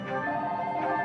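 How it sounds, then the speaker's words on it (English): A telephone rings during a home game recording, a steady electronic ringtone with sustained tonal pulses, moderately loud and close, with no talk over it. "Oh, great, that's the phone."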